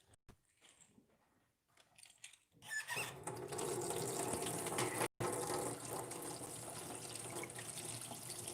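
Hot water runs from a tap, a steady loud gush that starts after a few seconds of quiet mechanical clicks and rattles, briefly cutting out once before continuing steadily.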